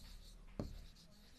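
Figures being handwritten during an accounts lesson, a short scratchy stroke of writing with one sharper mark near the middle, heard up close over a quiet room.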